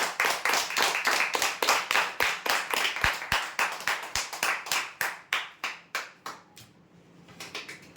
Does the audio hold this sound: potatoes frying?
no